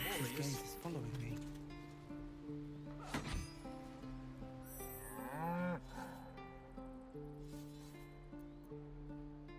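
A creature in Baldur's Gate III gives several drawn-out cow moos amid game music and voices, the lowing swooping in pitch over a sustained musical drone.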